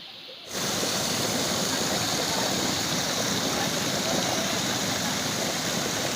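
A water stream flowing in Mirpur, Kashmir, makes a steady, loud, broadband rush that starts abruptly and continues without a break, with no clear talk over it.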